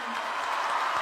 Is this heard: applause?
yes